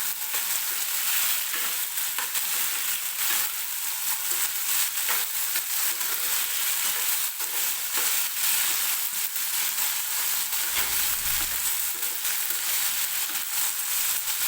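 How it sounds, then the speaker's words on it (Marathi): Potato and peas fry in oil in a kadhai, a steady close-up sizzle and crackle with occasional stirring scrapes, continuous and even without pause. "हा बटाटा आणि वाटाणा आपल्याला तेलामध्ये असंच भाजून घ्यायचा आहे"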